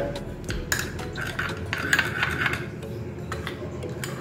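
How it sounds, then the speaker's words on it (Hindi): A spoon stirs a daana methi salad with honey in a bowl, giving soft irregular clinks and scrapes at close range, light and intermittent with no voices. "इन सब को मिक्स कर लेंगे।"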